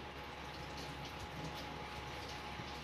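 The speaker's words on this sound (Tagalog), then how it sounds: "Yan mga tol, hugas ng kamay." Tap water runs from a faucet during hand washing in a GTA mod video game, a steady low rushing stream that continues evenly and quietly throughout.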